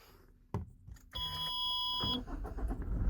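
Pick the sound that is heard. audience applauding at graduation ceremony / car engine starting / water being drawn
car engine starting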